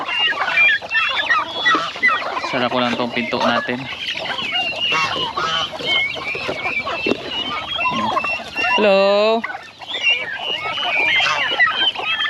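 Free-range chickens on a small farm, near broiler chickens and turkeys, cluck and squawk nearby, with one loud drawn-out call near the end, while a person talks over them.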